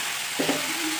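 Spices and vegetables are stirred together in a hot frying pan for an Assamese curry, giving a brief, close sizzle with a soft scrape of stirring and no talking.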